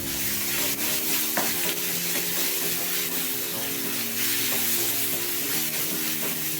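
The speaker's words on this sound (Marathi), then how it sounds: "फोडणी अशी चांगली खमंग तळून घ्यायची मस्त पैकी" A tempering of asafoetida and ginger-garlic paste fries in hot oil with a loud, continuous sizzle, and a steady hum runs beneath the crackling.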